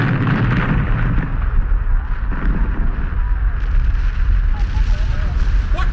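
A gunship exploding after being hit, in a Doctor Who trailer: a dense, continuous roaring blast and rumble with wind-like noise, loud and close, mixed with indistinct voices.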